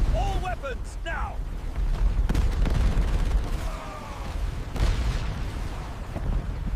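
Weapons fire and heavy explosions in a video game as a ship battles an attacking leviathan: dense, loud rumbling booms and bursts of gunfire, with shouted voices over the din.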